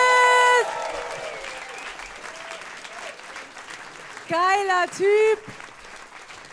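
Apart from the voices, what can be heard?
comedy club audience applause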